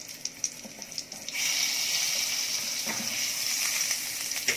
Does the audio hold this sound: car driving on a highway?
no